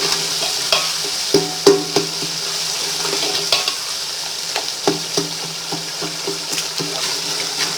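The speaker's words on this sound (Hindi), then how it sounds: "अदरक लहसुन पिसा हुआ, वो डालेंगे। अच्छी तरह मिक्स करें।" A spoon clinks and scrapes steadily through ginger garlic paste in a pot of mutton biryani with peas, irregular stirring knocks over a soft sizzle and bubbling, close by with no talk.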